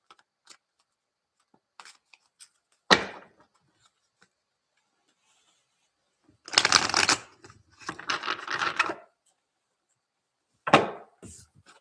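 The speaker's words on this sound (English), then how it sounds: "Let me give these a shuffle." Tarot cards are shuffled in short bursts, a sharp snap followed by two longer riffling passages and another quick flutter, separated by near silence.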